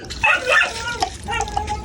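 A dog yelps and barks in a few quick, high bursts while being held for a bath, close by, with splashing water and some voices around it.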